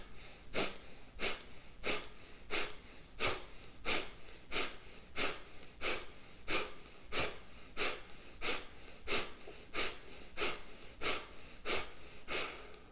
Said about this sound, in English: it is an energizing kind of breath